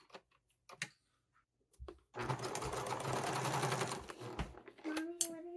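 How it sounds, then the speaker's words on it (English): A sewing machine stitches fabric pieces together for a baby sling in a fast, even whirring run of about two seconds, preceded and followed by scattered clicks and handling taps, fairly quiet and close. "Now I will sew the pieces together."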